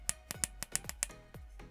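Sharp, rapid clicks from the buttons of a Cube Controls GT-X2 steering wheel, about eight crisp presses in under two seconds, close and alone.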